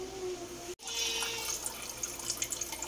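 Water streams steadily into a cooking container after a brief click, a close, continuous splashing pour with small gurgles toward the end.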